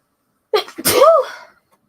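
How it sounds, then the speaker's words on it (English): A single sharp human sneeze indoors, close and fairly loud, with a short breathy intake and then the burst, and no other sound around it. "I'm going to sneeze."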